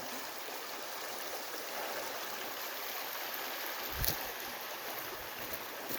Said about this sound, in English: But it is just a small creek that runs through.